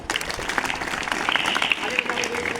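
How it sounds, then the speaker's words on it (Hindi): Children and adults at a school Children's Day prize ceremony clap steadily for the winners, a dense close round of applause with a voice speaking over it. "जोर से बजाओ भाई ताली"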